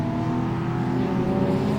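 Loud, steady roar of a GT race car engine at full throttle on a circuit, holding a strong sustained drone throughout with no talk over it.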